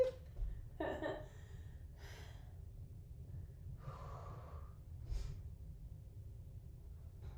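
A person breathing heavily during an exercise workout, several distinct gasps and snorting exhales spaced a few seconds apart, close and fairly quiet over a low steady background hum.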